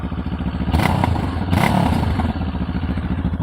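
A Benelli TRK 702 motorcycle with its stock exhaust runs close by with a throaty, pulsing exhaust note, briefly revving twice before settling back to a steady idle.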